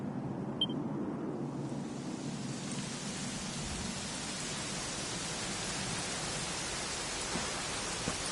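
Steady rain falls in the video game Dragon Quest XI, a constant even hiss of heavy rainfall that holds without a break throughout, with no voices.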